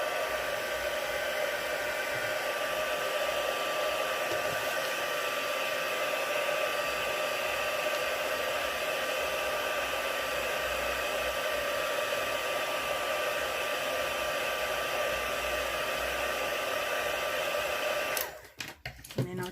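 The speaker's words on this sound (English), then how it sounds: "I'll just give that a wee blast with my heat tool." A craft heat tool blows hot air over a stamped, coloured card, a steady loud whirring hiss that runs for most of the time and then cuts off abruptly near the end.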